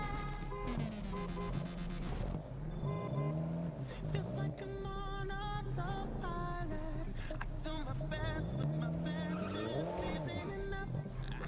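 Car driving in the racing game Test Drive Unlimited Solar Crown, a steady revving engine with rising and falling pitch as it accelerates and shifts, continuous throughout with some tyre squeal.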